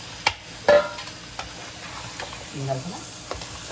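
Crab pieces sizzle softly in a pan of masala, with a few sharp clacks and scrapes of pieces being added and stirred, close by, and a brief murmur of voice.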